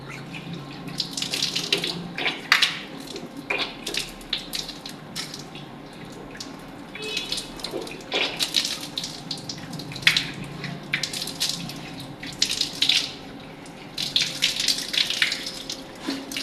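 Water pours from a tap during Shia wudu ablution, splashing in irregular close bursts as hands and face are rinsed, with no talking.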